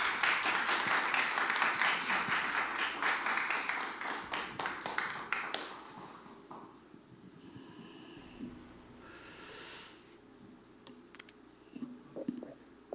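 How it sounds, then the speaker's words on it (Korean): An audience claps at a Korean humanities academy lecture to welcome the guest lecturer, a dense burst of applause for about six seconds that thins into scattered claps and fades to quiet room noise with a few faint sounds. "이제 나오셔서 강연을 시작하실 때 박수로 환영을 하겠습니다"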